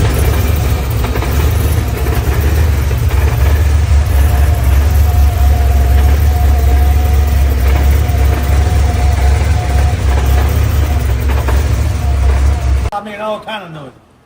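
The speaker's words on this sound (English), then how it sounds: "Put the motor in, started the motor up." A car's newly installed motor runs after starting, a loud, close, steady rumble that holds for about thirteen seconds and then cuts off abruptly.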